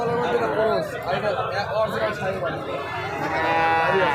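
A pair of young Sahiwal calves at a cattle market moo in several drawn-out calls, close and fairly loud, while people talk nearby.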